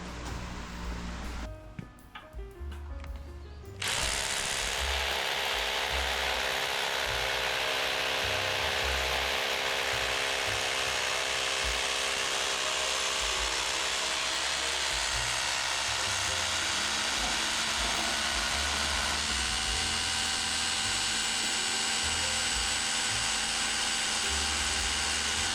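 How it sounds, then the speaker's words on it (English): A hammer drill bores a hole into a Wood-Mizer LX150 sawmill frame, starting after a brief quiet lead-in with a loud, steady high-pitched whine and rattle that runs continuously for over twenty seconds, close to the microphone. "So then just taking hammer drill, drilling a hole"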